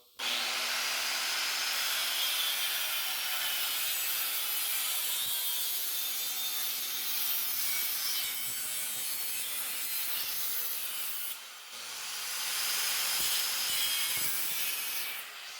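A steady, loud, rasping whine continues almost unbroken for about fifteen seconds as an angle grinder with small cut-off discs cuts through a part during an e-bike build, dipping briefly near the end before resuming.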